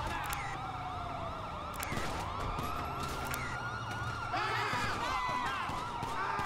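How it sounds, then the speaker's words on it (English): Police car sirens in GTA V with the LSPDFR mod, several wailing and yelping sirens overlapping loudly and continuously amid traffic rumble and scene noise, with someone talking faintly underneath. "Oh, that was my sirens on the whole time?"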